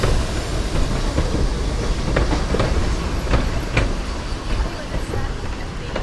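Steady rumble and rattle inside a passenger train carriage on the Algarve railway line in Portugal, with faint rhythmic wheel clicks over continuous loud running noise.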